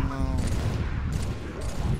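Rapid gunfire in the video game Halo 3, with bursts of shots over a dense low rumble of game action, while players talk over it.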